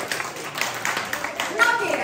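An audience at a seniors' celebration claps for Lajos, a brisk stream of hand claps lasting about two seconds, with talk and a voice mixed in over the clapping.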